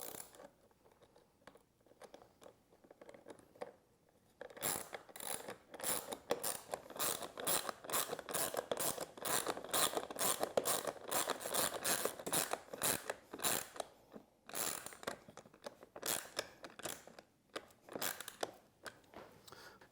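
Socket wrench ratcheting a bolt into a threaded insert on an angle grinder being converted into a sliding cutoff saw, a rapid string of close crisp clicks in quick bursts with short pauses between them.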